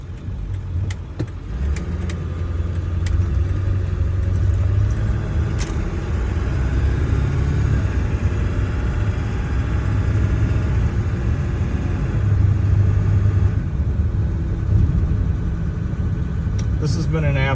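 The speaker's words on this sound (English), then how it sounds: "I'm just gonna take this truck for a drive." A 7.3 Power Stroke diesel truck with 333,000 miles drives along, its engine giving a steady low rumble and road drone inside the cab that swells slightly at moments.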